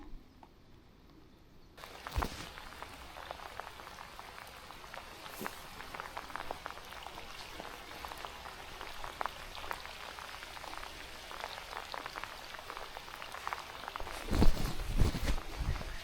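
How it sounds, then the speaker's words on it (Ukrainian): Steady rain patters across a surface, a dense crackle of drops that thickens and grows louder toward the end, with no voices. "Може дощ притихне, потім подумаємо, чи переходити кудись."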